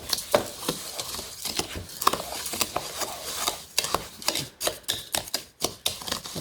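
Dry magnesium salt flakes mixed with lavender and peppermint are stirred in a bowl, giving a close, steady run of gritty scraping and crunchy clicks with irregular rhythm.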